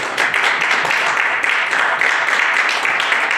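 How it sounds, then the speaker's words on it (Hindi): Audience applause at a gathering to honour selected candidates for IBPS PO, clerk and SO bank exams, a dense continuous clatter of many clapping hands, close and loud, with no talk on top. "आप अपने लिए भी तालियां बजाइए"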